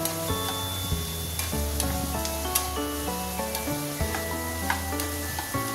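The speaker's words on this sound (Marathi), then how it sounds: "छानपैकी आपल्याला हे परतून घ्यायचं आहे कांदा आणि टोमॅटो" Onion and tomato sizzle steadily in a pan for dum aloo gravy, a constant close frying hiss with occasional stirring scrapes and clinks, no voices.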